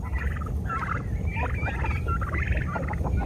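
A male turkey tom gobbles repeatedly in rapid rattling bursts, close and clear over a steady background rumble.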